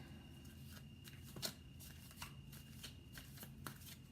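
Tarot cards being shuffled, a soft close riffling with repeated light snaps and flutters, faint and steady against a quiet background.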